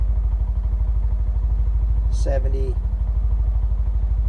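A cheap Tractor Supply UTV engine idles nearby with a steady, rapid, even pulsing, while someone briefly speaks over it.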